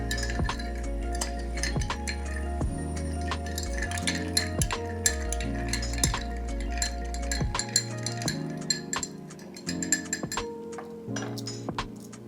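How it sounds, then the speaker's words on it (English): A cocktail with cacao bitters is stirred with ice in a glass: a quick, steady run of close, bright clinks and rattles, with no talking. "We're just gonna give it a stir."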